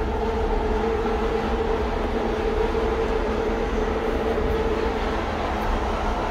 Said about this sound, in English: This is me filming in a locomotive at work.